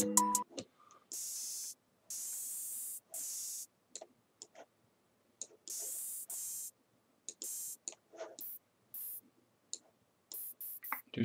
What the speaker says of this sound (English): Hat open.